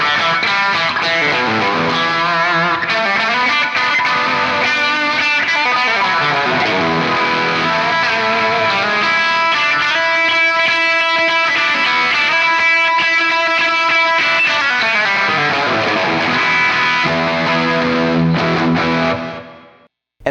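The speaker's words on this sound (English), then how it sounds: "when you put a P90 in some distortion, it gives you that real squawky sound" A distorted Gibson Les Paul Custom with P90 pickups plays a sustained, gritty riff with a squawky midrange bite, loud and continuous before cutting off at the end.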